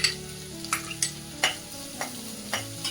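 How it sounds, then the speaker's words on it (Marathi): Onion sautéing in a pan while making Bhogi mixed vegetable curry with brinjal, heard as a soft steady sizzle broken by six sharp scrapes and clacks of a spatula at irregular intervals, close by with no talking. "कांदा असा इकडे एका बाजूला व्यवस्थित परतायचा"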